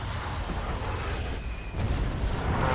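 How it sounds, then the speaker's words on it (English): Mortars firing rounds and shells exploding on a town in the Wargame: AirLand Battle video game, a continuous heavy rumble of distant booms and blasts rolling together with no clear breaks. "So here we have these mortars firing rounds downrange"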